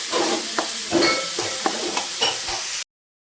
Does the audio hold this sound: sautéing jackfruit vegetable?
yes